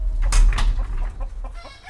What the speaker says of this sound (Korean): 스페인의 화이트 페이스드 블랙 스페니시라는 품종이에요.